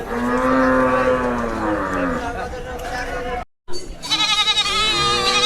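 Cattle at a busy Qurbani livestock market low and moo loudly in long drawn-out calls, with goats bleating nearby and crowd chatter underneath.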